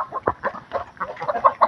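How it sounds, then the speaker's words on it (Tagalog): Backyard chickens cluck in a small rural coop, a close, busy run of short, overlapping clucks and squawks repeating rapidly with no talking. "Mga chicken natin, mga chicken."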